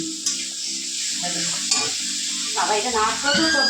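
Fish sizzling loudly in a hot pan, a steady hiss of frying broken by stirring clatter and bubbling bursts as pieces are added.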